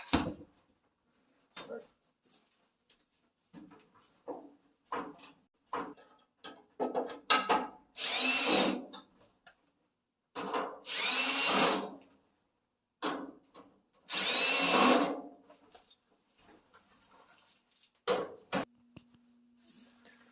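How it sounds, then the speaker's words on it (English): Several loud bursts of a power tool whirring, each lasting a second or two, separated by clattering and handling noises, close by, during repair of a Whirlpool Cabrio clothes dryer. "No power tools work more efficiently than Rigid."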